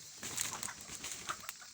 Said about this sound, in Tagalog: Napakandang labuyo mga kanter